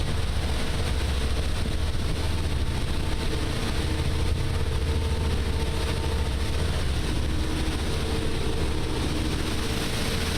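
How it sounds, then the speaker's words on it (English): Twin engines on a 2009 Leopard 47 power catamaran run at full power, producing a steady low drone and hum mixed with broad wind and water rush throughout, with no talking. "now we're going to go to full power on both engines"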